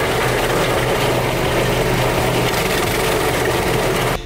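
A firewood cutting machine powered by a 14 horsepower diesel engine runs continuously, its loud, steady rumbling drone mixed with grinding wood noise, holding constant before cutting off abruptly at the very end.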